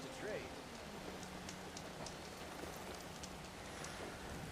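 Steady rainfall in the open world of Horizon Forbidden West, a dense even hiss of drops that continues throughout, with faint scattered sounds over it.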